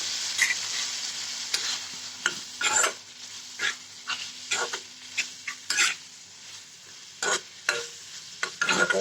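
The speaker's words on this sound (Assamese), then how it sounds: "এতিয়া ইয়াতে মই মাছকেইডোখৰ দি দিম দি পেলাই মই অলপমান লৰাম" Catfish pieces frying in a pan with bamboo shoot and lentils, a spoon scraping and stirring in repeated bursts over a steady sizzle, close and fairly loud with short pauses between strokes.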